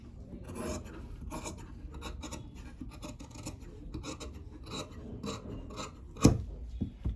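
Scissors cut through blouse fabric while tailoring a sleeveless keyhole-neck blouse, giving a steady, quiet rasping snip that runs throughout and has a sharper clack near the end.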